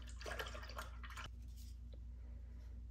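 A paintbrush loaded with acrylic paint is swished and rinsed in a water cup, giving a quick cluster of close, soft splashing and sloshing for about a second before fading to a quiet background hum with one faint drip.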